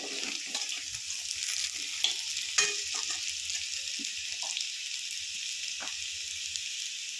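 Taro pieces fry in a pan until reddish, giving a soft, steady sizzle with occasional stirring taps and scrapes, close but fairly quiet and free of talk.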